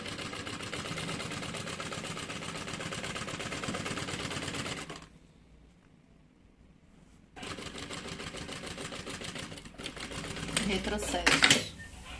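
A sewing machine stitching a bag lining with a backstitch at the start runs in rapid, steady bursts, stops briefly, then starts again. The stitching is close and fairly loud, and there is no talk over it.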